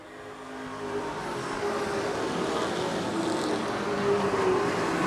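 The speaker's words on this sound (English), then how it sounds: "Brett Osmond in his late model debut" Late model stock cars race around a track at the Wood Pellet Warehouse event, a broad engine roar that swells and builds steadily, heard from a distance without talk.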